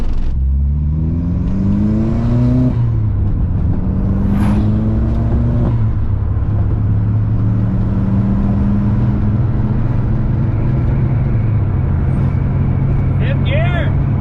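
Golf MK2 with a 1.8T engine swap accelerating through the gears on a road, engine note rising and dropping with each shift, loud and steady beneath someone talking throughout.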